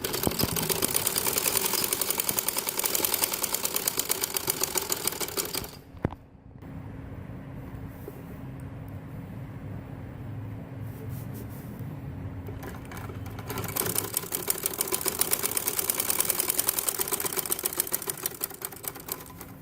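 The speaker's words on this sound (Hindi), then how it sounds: "ये देखें ये सिलाई हो गई है एक पोंचे की।" A sewing machine stitches the hem of men's Bermuda shorts in a fast, rattling, steady run close by, pauses for several seconds, then starts up again, with no talk.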